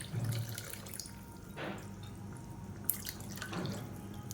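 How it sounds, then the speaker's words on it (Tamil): Tap water runs into a rinsed pressure cooker in a kitchen, a steady gushing stream with a few brief splashes and drips, with no talking. "இப்போ குக்கரை அலசிட்டு கொஞ்சமாக தண்ணி சேர்த்துக்கலாம்"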